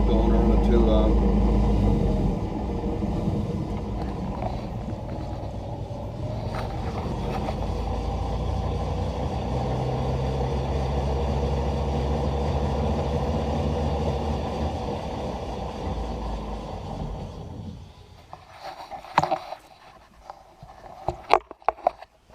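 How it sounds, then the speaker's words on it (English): Electric motor spinning in a BMW E46 electric drift car with no oil in the gearbox, a steady droning whir that holds for most of the stretch, then cuts out, with talk over it. "And that is us running the motor."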